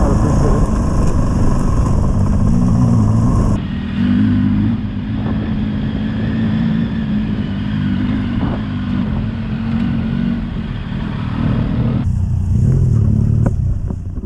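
Heavy 500-pound touring motorcycles ride along steadily, a loud continuous engine and wind roar that shifts in tone partway through and returns near the end.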